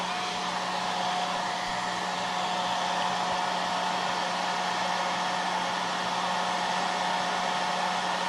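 A hair dryer blows steadily to dry paint around the eye area of a wood carving, making a constant, close, fairly loud whooshing whine with a fixed hum that runs unchanged throughout, with no talking.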